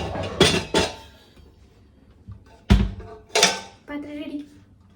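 A cooking pot is lifted and set down in a home kitchen, giving a few loud clanks and metallic knocks in separate bursts, with a brief voice in between.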